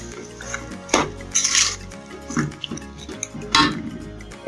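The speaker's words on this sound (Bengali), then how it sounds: "চিনি দিলাম, নেড়ে মিশিয়ে দিতে হবে, অনবরত এটাকে নাড়তে হবে" Sugar and olive pickle stirred in a pan, the spoon scraping and clinking against the metal in several irregular bursts, close and moderately loud with no talk.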